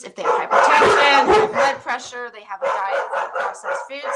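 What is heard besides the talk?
dogs barking indoors at a cat outside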